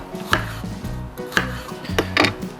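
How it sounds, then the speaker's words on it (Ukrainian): A knife chopping sweet bell pepper into large pieces on a board, three or four firm, close cuts with short gaps between them and no voices. "І крайній овоч це солодкий перець. Також ріжу досить великими шматочками."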